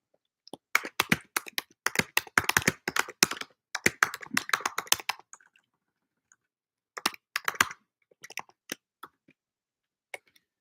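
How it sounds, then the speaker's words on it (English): Rapid, irregular clacking of keys on a computer keyboard as a pet walks across it, in dense bursts with pauses, then sparse isolated taps, no talking. "she's gonna jump on the computer and start typing."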